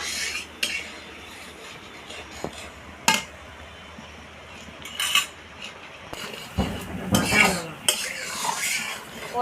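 Curd and masala with Kashmiri chili powder being stirred in a pot for a Bhola fish curry, with loud metal spoon scrapes and clinks over a soft sizzle, growing busier toward the end.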